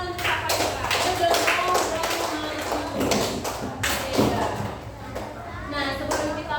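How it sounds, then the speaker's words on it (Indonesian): A class of children clapping together in a classroom, a dense burst of many hands that fades and picks back up, with voices mixed in. "Beri dulu tepuk tangan untuk kakak kita."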